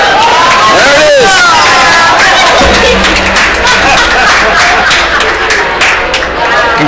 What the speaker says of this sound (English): Congratulations from the crowd.